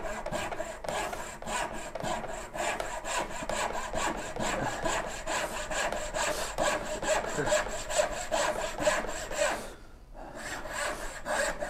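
A hand saw cuts through wood for a Shaker cabinet in steady rhythmic strokes, close and fairly quiet, with a short pause near the end before the sawing resumes.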